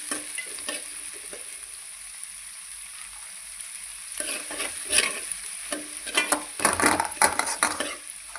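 Green chilies frying in oil for a crab curry, a steady sizzle that swells into louder bursts of crackle and spoon scrapes in the pan, growing busier toward the end.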